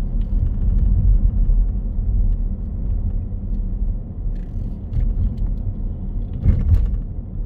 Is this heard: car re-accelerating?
yes